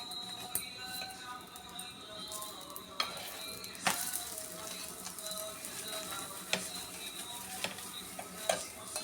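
A chapati cooks on a hot pan as Dalda ghee is spread on it, giving a constant close sizzle with scattered small pops and ticking crackles throughout, with no talking.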